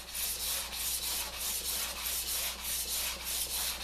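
Steady back-and-forth scraping of a metal jointer blade on a sharpening stone, a rhythmic rasping stroke repeating about twice a second, close and continuous with no talking.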